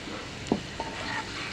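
Garlic sautéing in slightly hot oil on a medium flame, a steady soft sizzle with a couple of faint stirring taps, close by and alone.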